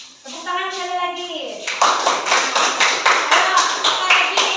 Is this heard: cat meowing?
no